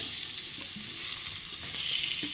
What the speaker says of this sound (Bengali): সয়াবিন দিয়ে একটু ভালো করে নাড়াচাড়া করে সয়াবিনটা কষিয়ে নেব